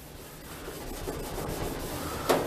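A doodle bug pad scrubs a rusty outdoor grill, giving a steady close-up abrasive rubbing that builds slightly in loudness and ends with a sharper scrape.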